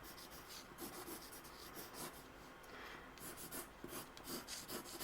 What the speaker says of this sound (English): we're going to draw lightly, and then we can draw points